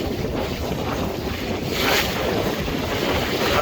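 A sailing yacht off Looe beats through a choppy sea with the wind against the tide and white caps, making about 5.5 knots with the port gunwale getting wet. A steady, loud roar of wind and rushing water runs throughout, with no talking.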